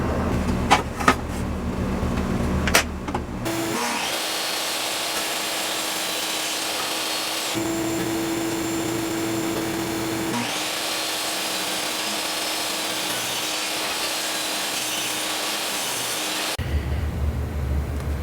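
Power saw cutting wood slats 1.5 inches wide for a squirrel feeder: a few knocks and handling noises, then a loud sustained motor whine with the blade biting into wood, a brief pitch change mid-cut, then stopping.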